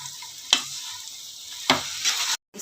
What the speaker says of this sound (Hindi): एक बार मैं इसे अच्छे से मिक्स कर लेती हूँ।